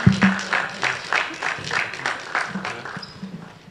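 An audience at a film business forum applauds in a steady, moderately loud ripple of claps that slowly tapers off, with a voice speaking over it.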